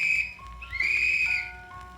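A shrill whistle sounds in a few sliding blasts, rising and falling in pitch, clear and close with no talking.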